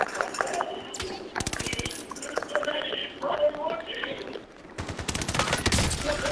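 Sniper gunfire in a video game: bursts of loud, sharp rifle shots in rapid clusters, with players talking over the shooting.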